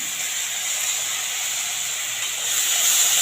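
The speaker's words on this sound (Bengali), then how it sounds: "ভালো করে মশলাটা কষিয়ে নেব।" Onion paste with ginger, garlic, green chillies and spices frying for chicken curry gives a steady close hiss that swells a little louder near the end, with no talking.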